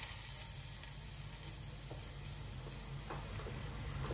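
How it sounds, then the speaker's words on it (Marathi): Onion frying in ghee for Maggi, giving a continuous soft sizzle with a steady crackle that runs unbroken, close and fairly quiet. "कांदा टाकून आपण याला एक 2-4 मिनिटे करणार गोल्डन व्हायला सोडूया"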